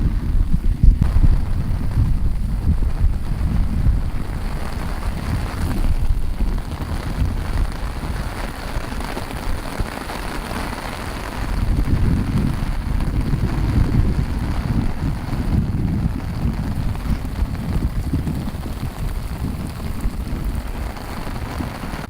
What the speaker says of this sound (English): Still raining, it's starting to get a little less